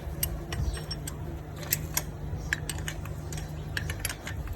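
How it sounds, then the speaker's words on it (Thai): A thread tool re-cuts the worn inner pedal thread of a Japanese bicycle crank, giving soft metallic clicks and ratcheting ticks over a low steady hum, close and fairly quiet. "นี่คือการปั้นเกลียวจักรยานเวลาใส่บันไดไม่เข้ามันฝืดจัด"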